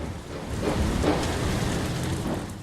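Steady rain pours over the open sea in the Ship Simulator: Maritime Search and Rescue game, with a low rolling rumble of thunder swelling in the middle. The sound is a dense, continuous hiss, fairly loud, with no voices.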